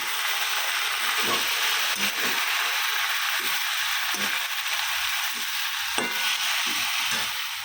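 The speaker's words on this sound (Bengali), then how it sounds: "তো পালং শাকটা ভাজা হবে" Spinach frying in a pan gives a steady hiss, with scattered soft knocks and scrapes of a utensil being moved around, no talking.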